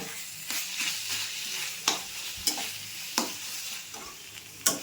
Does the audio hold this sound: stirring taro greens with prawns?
yes